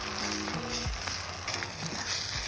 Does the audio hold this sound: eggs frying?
yes